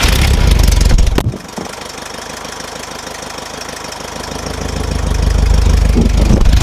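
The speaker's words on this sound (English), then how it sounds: "I don't remember the last time I gave you guys a cold start of the bug" Air-cooled VW Beetle engine cold-starting with a sharp burst, then settling into a steady, slightly knocking idle close by that swells louder toward the end.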